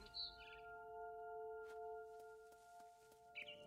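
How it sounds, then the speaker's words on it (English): A barn swallow chirps outside a window in the video game What Remains of Edith Finch, brief faint tweets at the start and end over steady tonal game music. "Then I heard chirping outside my window."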